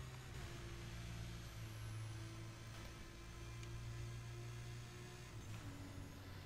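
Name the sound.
car engines in racing video game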